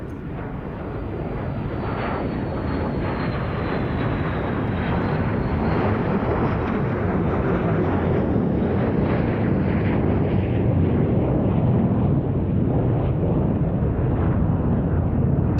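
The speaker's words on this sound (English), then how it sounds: "as the B-1B flies by with its little canard stabilizers on the nose looking a bit like a dogfish" A Rockwell B-1B bomber makes a slow pass with its wings swept forward at the Royal International Air Tattoo, RAF Fairford. The jet roar is loud and sustained, swelling steadily and holding for the whole stretch.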